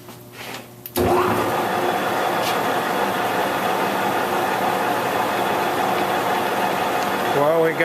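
A 26-inch by 100-inch Victor gap bed lathe runs with a steady mechanical hum and whine through most of the stretch, starting abruptly after a brief quieter moment, with faint voices in the shop.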